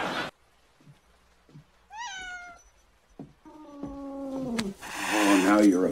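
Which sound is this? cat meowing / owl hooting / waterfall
cat meowing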